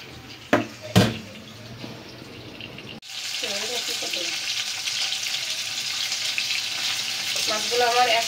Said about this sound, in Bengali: মাছগুলো আমার এক পিঠ ভাজা হয়ে গেছে, এখন উল্টায় দিতেছি।